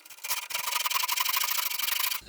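Hand saw cutting wood for an acoustic guitar build, a rapid run of close, rasping back-and-forth strokes that starts after a brief pause and stops abruptly near the end.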